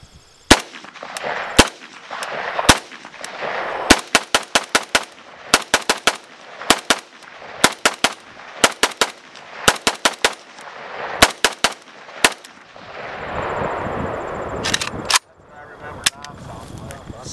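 Rapid bursts of gunfire from a WASR-10 AK-style rifle at an outdoor range, loud sharp shots in quick strings and clusters, with people talking between and under the shots.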